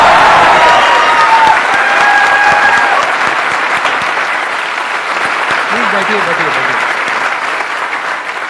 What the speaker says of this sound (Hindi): एक्चुअली हमें उनके लिए आज स्पेशली तालियां बजानी चाहिए